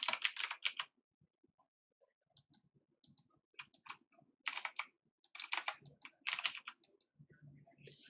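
Rapid bursts of keystrokes on a computer keyboard, clattering close and clear in quick runs separated by short pauses, with no voices.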